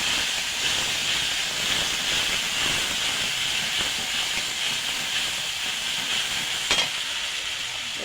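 Ground black mustard, cumin and green chili paste frying in hot oil, a steady bright sizzle and hiss running throughout with one brief sharper crackle near the end.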